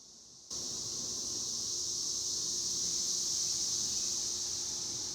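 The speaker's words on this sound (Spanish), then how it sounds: "Qué bonito es lo bonito escuchar las cigarras cantar" Cicadas singing outdoors: a steady, dense high-pitched buzzing drone that starts abruptly and holds at an even, moderate level throughout, with no talk over it.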